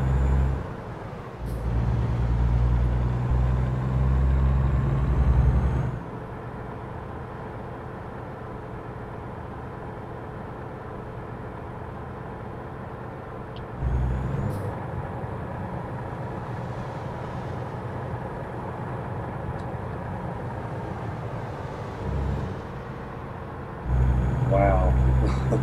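Truck engine and air brakes in American Truck Simulator: a steady low engine drone that swells louder in bursts, with brief hissing brake releases, and someone talking over it at times.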